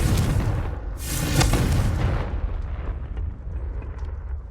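The Confringo blasting curse from Hogwarts Legacy bursts in a loud, booming fiery explosion that swells for about two seconds, then rumbles and fades into a dull roar.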